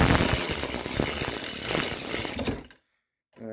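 A DEWALT ATOMIC 20V MAX brushless cordless 1/2-inch ratchet drives a bolt tight, giving a loud, close, gritty mechanical whir with clicks that runs about two and a half seconds, then cuts off abruptly into silence.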